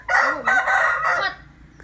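A large rooster raised by a boy crows once, close and loud, a single drawn-out cock-a-doodle-doo lasting just over a second before fading to quiet background.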